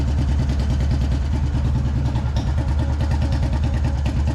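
A 1986 Royal Enfield Bullet with a CI engine idles up close, producing a loud, steady single-cylinder thump in an even rhythm that holds throughout with only slight variation.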